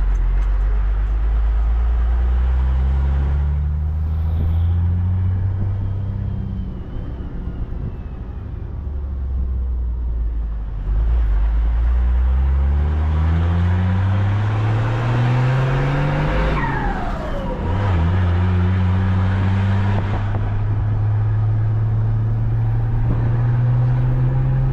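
Ford F250 XLT-L pickup with a straight-through exhaust and a Cargo 1620 turbo, revving up through the gears several times with loud rising engine tones and a faint turbo whistle, close and steady.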